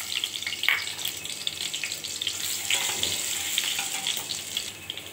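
Ghee and chopped ginger sizzle in hot refined oil while pulao is being made, giving a steady crackling fry with small pops and a brief clink of utensils, near and fairly loud, with no talking.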